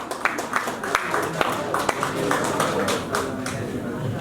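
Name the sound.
audience clapping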